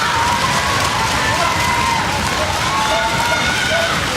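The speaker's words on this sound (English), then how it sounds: "Crowd building up to fever pitch here" Spectators at a judo Grand Prix semi-final cheer in a loud, sustained roar that swells continuously without a break, with a few raised voices cutting through the crowd noise.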